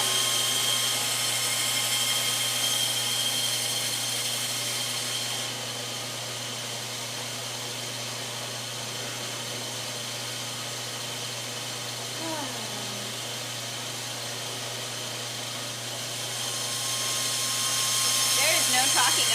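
A disc sander runs during assembly of Ghostbusters proton pack props, a steady broadband whir that holds throughout, briefly easing in the middle then swelling again near the end, with a few faint squeaks.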